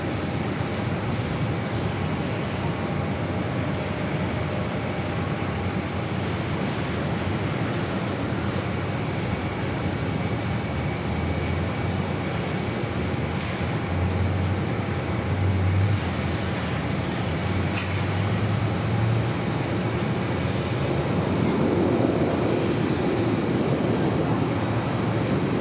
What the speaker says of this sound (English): That arrival Southwest coming in from Wichita